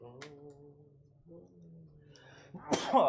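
A voice speaks and laughs, then near the end comes a sharp, explosive sneeze close to the microphone.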